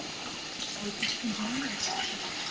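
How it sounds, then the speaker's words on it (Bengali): Water poured into a simmering Bengali rohu fish curry, a continuous soft wash of liquid with faint tonal sounds partway through. "আর সঙ্গে আরও সামান্য একটু জল দিচ্ছে কারণ মাছটা একটু ফুটবে"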